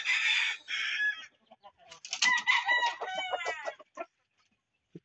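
Boston breed gamecock roosters kept indoors, one long strained crow followed by a second crow and several short clucks, close and clear against a quiet room.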